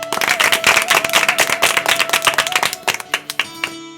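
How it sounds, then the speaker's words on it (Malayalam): A group claps hands together in approval of a proposal, a dense, steady burst of many overlapping claps that thins out toward the end, with a faint sustained tone running beneath. "അഭിപ്രായം ഞങ്ങൾ കൈയടിച്ച് പാസ്സാക്കുന്നു"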